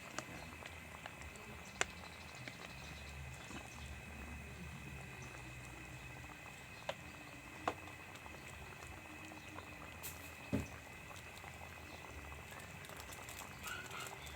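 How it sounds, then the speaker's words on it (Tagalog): Coconut milk simmers in a pot until its oil separates, a faint, continuous bubbling with occasional small pops and ticks, heard close and without talk. "Tapos dito natin siya papatuyuin, no? Hanggang sa lumabas yung kanyang pinakalangis or mantika ng gata"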